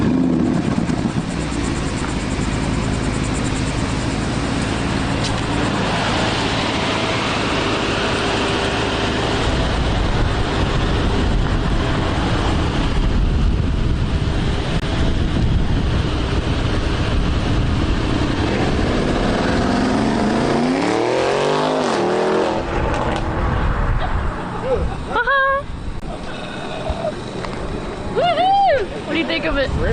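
A car engine roars loudly and steadily, revving hard, with voices shouting over it near the end.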